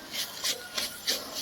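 A spoon stirring a thick prawn and raw mango curry in a cooking pot, four scraping strokes at an even pace, close by and moderately loud, with no talking.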